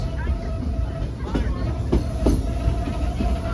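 A Frisco Silver Dollar Line #14 train rolls along the tracks with a steady rumble and occasional sharp clacks and squeaks from the wheels.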